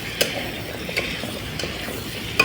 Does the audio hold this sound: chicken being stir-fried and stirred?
yes